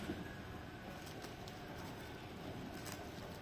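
A metro train ride, heard as a faint, steady rolling rumble with a broad hiss inside the carriage and a few soft, brief high ticks.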